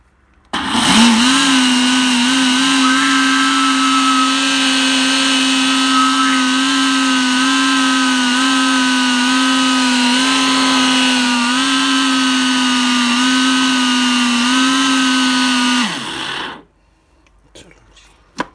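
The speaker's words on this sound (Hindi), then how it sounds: "चलो जी ये हो गया ग्राइंडर।" An electric mixer grinder in a home kitchen grinding semolina, a loud, steady high-pitched motor whine running continuously for about sixteen seconds before spinning down and stopping.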